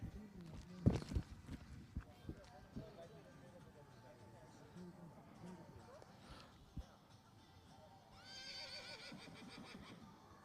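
A Friesian horse neighs once loudly at a breeding show, followed by scattered hoof and movement sounds, with a commentator talking over the arena throughout.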